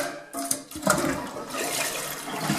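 A toilet with a leaky fill valve flushes close by, a sudden rushing gush of water followed by a steady swirling drain and refill noise with no talking.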